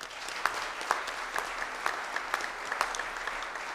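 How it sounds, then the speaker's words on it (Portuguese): An audience at a solemn legislative session marking the State Day of Therapeutic Communities gives a round of applause, a steady wash of clapping with rhythmic accented claps, at moderate distance and without talk. "Eu queria uma salva de palmas, então."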